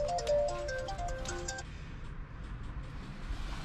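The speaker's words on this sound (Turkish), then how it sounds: "Telefonu susmuyor." A phone rings inside a 1.6 TDI Audi A3, giving a short melodic electronic ringtone that stops after about a second and a half, leaving a steady low background hum.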